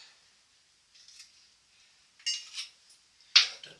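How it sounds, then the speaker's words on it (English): A knife cuts fresh casting sand flat with a few short, faint scrapes and gritty swipes in near silence, ending in one sharper, louder stroke. "We then get our knife and we cut that flat."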